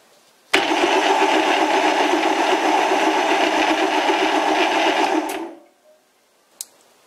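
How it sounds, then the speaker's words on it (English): A metal lathe cuts a thread under power while fitting a threaded drill chuck to a tapered arbor. It starts abruptly, runs with a loud steady whir for about five seconds, then stops and spins down, followed by a brief click. "ready to start cutting some thread and hopefully I won't run into the shoulder here"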